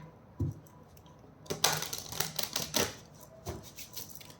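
True love oracle cards being shuffled by hand, giving a few short papery riffling bursts, a brief one early and a longer busy stretch in the middle, close and moderately loud with no talking.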